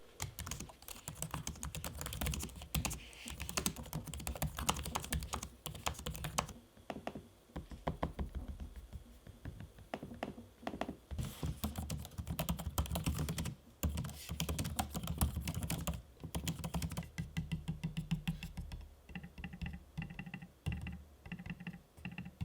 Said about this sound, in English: Here's an audio sample of me using both the keyboard decks and trackpads so you can know what to expect as far as the noise is concerned